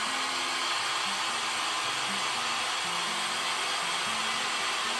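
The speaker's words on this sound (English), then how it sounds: "I plugged in the wrong hairdryer." A hair dryer blows steadily over wet acrylic pour paint, a constant loud airy whoosh with a faint wavering hum underneath, no voices.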